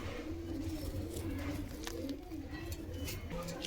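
A female Giribaz pigeon with clipped wings and yellow eyes, released by hand, gives soft low coos under faint background noise, with a few brief rustles or flaps; quiet and fairly close.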